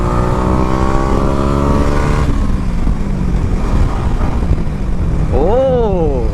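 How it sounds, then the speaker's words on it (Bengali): A Yamaha R15 V4 motorcycle on its stock exhaust revs loudly and close by, the engine tone climbing and falling in sweeping pitch changes with a steady rumble underneath. "সেই আমার এক্সজস্ট কিন্তু স্টক, কিন্তু সাউন্ডটা মাথা নষ্ট আসে।"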